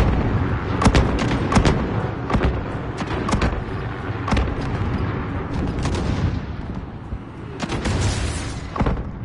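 Incoming mortar rounds in a PS4 military shooter, with a run of sharp, heavy blasts landing at irregular intervals over a rumbling battlefield background, some nearer and louder than others.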